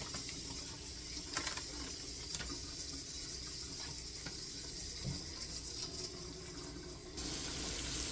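Food rinsed under running tap water for a wild salmon meal, a faint continuous splashing hiss with small clatters, the flow getting a bit louder toward the end.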